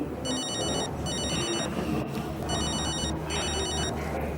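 A mobile phone rings in short trilling bursts, two pairs of rings spread evenly over a few seconds, fairly close over a steady background hum, with no talking.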